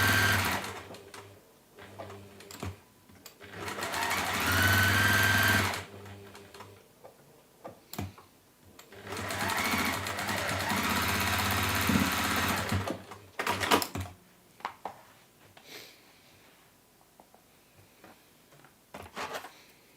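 A sewing machine top-stitches cork and PU fabric in two long, loud runs of rapid rhythmic whirring, separated and followed by quiet clicks and handling noises.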